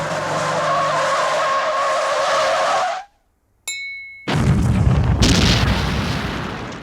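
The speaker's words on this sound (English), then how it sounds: "it causes a massive explosion that takes out both the Pinto and the military truck" Comedic crash in a parody film where a military truck bumps a Pinto and both blow up: a loud skid, a brief silence with a high ring, then a heavy booming explosion rumbling out.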